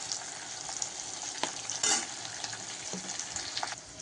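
Steady quiet sizzling of onions and garlic sautéing in a pan, with occasional soft stirring clicks and scrapes.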